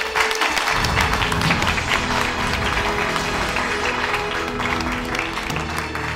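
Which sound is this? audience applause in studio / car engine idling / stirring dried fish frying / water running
audience applause in studio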